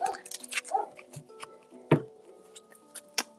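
Dogs barking and whimpering indoors, a mix of short yips, a sharp bark and whiny whimpers scattered irregularly, fairly quiet and close with no talk.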